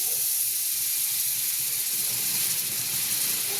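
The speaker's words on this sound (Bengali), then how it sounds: "বাটারটা আমি কড়াইতে দিয়ে দিলাম।" Amul butter melting in a hot kadai over low gas, giving a steady, even sizzling hiss that carries on unbroken and fairly close.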